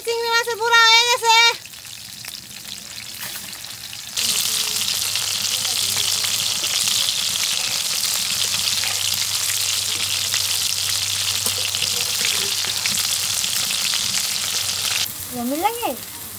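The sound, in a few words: prawn fritters frying in oil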